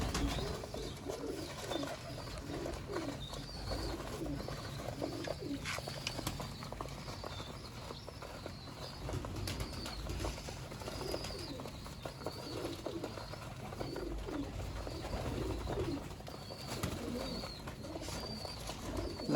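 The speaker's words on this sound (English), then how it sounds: "More and more pigeons are coming from their khudas." Pigeons gathering at their coops at breakfast time, with repeated soft throaty coos, bursts of wing flapping and scuffling close by, over a steady background hum.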